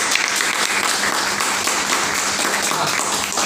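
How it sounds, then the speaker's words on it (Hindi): An audience at a business talk breaks into sustained, dense applause, many hands clapping loudly and evenly throughout with no pauses. "एक बार ताली बजाओ।"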